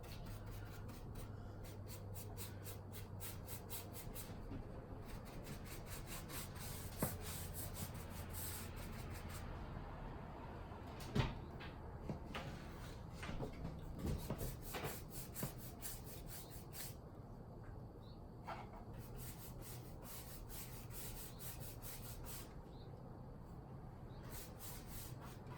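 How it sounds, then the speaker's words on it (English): A damp paintbrush rubs back and forth over a rough thrifted wooden piece, a soft steady scratchy swishing with a few louder knocks, close and without talk. "paint really works best when you've got a nice damp brush to work with"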